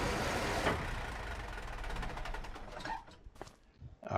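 Big diesel engine of a 1977 Versatile Big Roy experimental tractor in Farming Simulator 25, a loud steady rumble that holds for about three seconds before dropping away into sparser bursts near the end.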